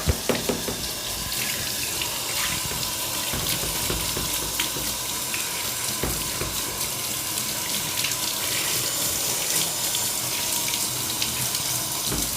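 Steady rush of tap water pouring over plant cuttings as they are rinsed under a shower, continuous and close with no voices.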